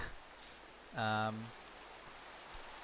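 Faint, steady rain hiss in a block-building video game, with a brief vocal sound breaking in partway through.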